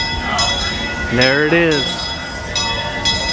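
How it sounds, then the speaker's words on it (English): A Disneyland park train passing nearby, with a brief rising-and-falling whistle-like tone over steady rail rumble and crowd ambience, while a person speaks briefly. "She's watching the train."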